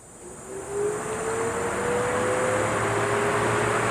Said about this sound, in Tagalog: Buhay ko yung electric fan.